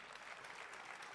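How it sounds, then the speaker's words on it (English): An audience at the EA E3 2018 press conference applauds in a brief burst of scattered clapping, faint and steady throughout. "audience claps for normal game development"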